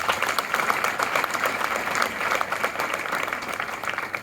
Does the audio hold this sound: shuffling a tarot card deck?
no